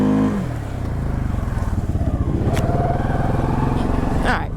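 A brand-new Can-Am XMR 700 four-wheeler runs in high gear, its engine rising into a loud, steady, throbbing drone close by, with a clank near the end.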